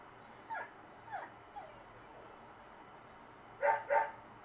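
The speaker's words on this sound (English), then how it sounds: "You have a sniffer dog." Sniffer dog in the video game Deadly Premonition, giving a few short whimpering yips spaced apart, then two louder barks close together at the end, with no talk.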